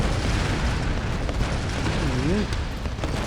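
An explosion rips through a cave in the Tomb Raider video game, a dense, sustained roaring blast that fills the whole stretch at steady loudness, with a voice briefly heard within the din.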